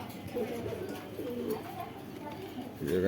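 Pakistani Giribaz pigeons at a market coo in soft, repeated low rolling calls, close by and fairly faint, with a voice talking briefly at the end.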